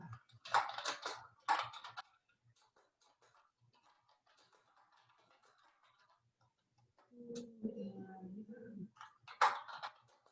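Brief bursts of computer keyboard keystrokes come in two quick clusters at the start and again near the end, with faint scattered taps and a short stretch of low talk in between, all in a quiet room.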